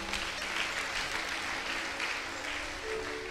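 A church congregation claps together in a dense, steady wash of applause, close and even for the whole stretch, with no voices rising above it.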